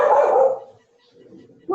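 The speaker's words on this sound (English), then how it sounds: "Don't you be barking at me." A dog gives one short, loud bark up close, then a quiet pause before another sound starts.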